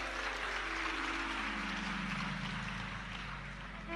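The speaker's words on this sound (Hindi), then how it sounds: "ये ताली बजाने से कुछ नहीं होगा" An audience at a Hindu religious discourse claps continuously, a dense wash of applause that stays loud throughout before easing slightly at the end.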